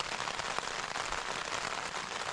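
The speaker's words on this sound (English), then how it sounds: "so as I thought, that was the rain coming" Steady rain patters on an MSR Hubba NX tent at Beckhead Crags, a dense, even hiss of drops with occasional heavier taps, close and continuous with no speech.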